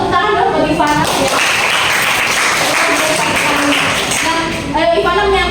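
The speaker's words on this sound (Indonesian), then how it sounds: "Tepuk tangan dong buat Ivana ya." A group in a coaching session claps for a participant, a steady dense wash of applause filling several seconds, with brief speech before and after.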